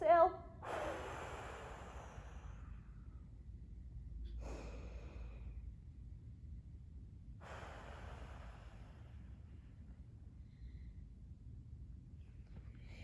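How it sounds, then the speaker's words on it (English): Forceful whooshing exhales in a core breathing exercise for climbing training, three separate breathy rushes of air a few seconds apart, close and fairly soft, with quiet room noise between. "when I exhale, I am going to really constrict those muscles to practice getting all of that breath out in a whooshing kind of way"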